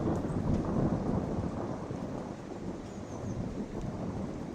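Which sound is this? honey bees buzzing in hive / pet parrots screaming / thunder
thunder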